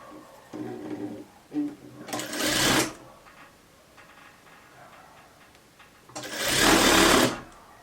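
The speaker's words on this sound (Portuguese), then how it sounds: "Deixa eu costurar esse aqui," A sewing machine stitches a blouse sleeve in two loud, close bursts of rapid whirring, with quieter clicks and handling sounds between them.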